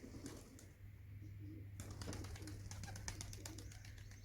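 Pigeons coo low and continuously around a rooftop loft as birds fly overhead, a sustained droning hum beneath brief rustling and faint background activity.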